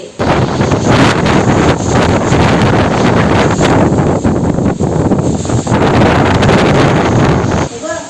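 Strong wind buffets the microphone in a steady, loud roar that hardly lets up, drowning out other sounds.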